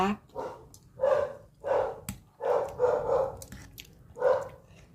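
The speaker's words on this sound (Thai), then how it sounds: "เดี๋ยวหมาเห่านะคะ" A dog barks in a series of distinct, evenly spaced woofs at moderate distance, with a quiet background between barks.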